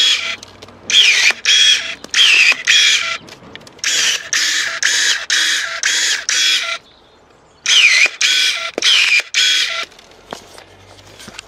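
A Soojook SJ-935 electric pruning shear snaps through thick branches around 25 mm, a rapid series of loud whirring motor bursts with clicks, pausing briefly before another run of cuts.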